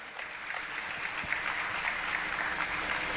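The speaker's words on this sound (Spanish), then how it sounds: "Dale un fuerte aplauso al Señor" A church congregation applauds during a sermon, a sustained wash of many hands clapping at once, fairly close and steady, with no talking over it.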